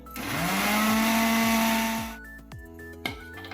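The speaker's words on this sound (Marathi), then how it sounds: "हे मिक्सरमधून वाटून आणते" An electric mixer grinder whirs loudly for about two seconds, then winds down and stops, followed by a few light clatters.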